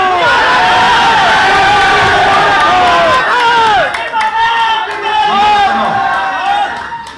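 An audience at a birthday speech event in Sasaram, Bihar cheers and whoops loudly, a dense excited crowd roar with shouts rising and falling throughout, close and continuous.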